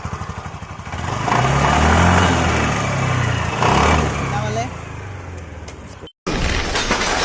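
A TVS Jupiter scooter engine fires up after about a second and revs with a loud, steady buzzing drone, rising briefly mid-way before a short cut-out near the end. Voices talk over the engine.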